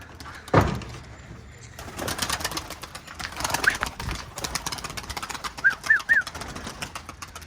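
A thump, then a burst of wing flapping as pigeons are released from a coop and take off, followed by soft cooing and a few chirps close by.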